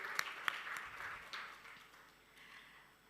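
An audience at a maritime awards ceremony in Dubai gives light applause, with a couple of sharp nearby claps at the start, then scattered clapping that thins and fades toward the end.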